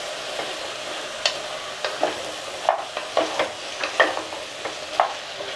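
Potato chunks being stirred into a pav bhaji mixture in a pressure cooker, giving soft scraping and stirring strokes at an uneven pace, with light sizzling underneath and no talking.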